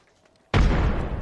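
A frag grenade in the Apex Legends video game goes off after a quiet moment: a sudden loud, close boom that keeps rumbling heavily to the end.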